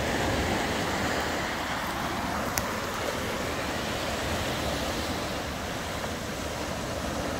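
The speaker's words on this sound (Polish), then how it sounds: "Szum morza. Piękny horyzont. Piękne fale." Baltic Sea waves wash steadily along a wild, sunny shore near the Stilo lighthouse, a continuous broad rushing surf with some wind, fairly loud and unbroken throughout.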